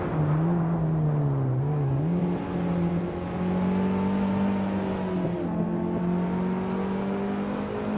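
A 1985 Lancia Delta S4 Stradale racing engine holds a steady, loud drone with slight pitch wavering and a brief dip, running alone without talk.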